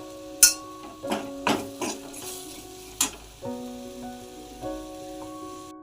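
Masala is sautéed in a pan for a pod curry. Several sharp spatula knocks ring against the metal at uneven intervals over a soft, low frying background.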